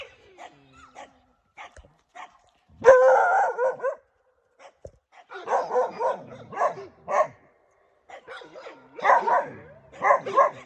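A Kangal dog barks repeatedly in bursts in a forest at night, some barks stretching into yips and short howls, fairly distant with quiet gaps between.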